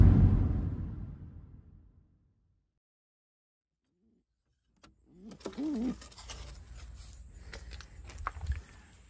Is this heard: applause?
no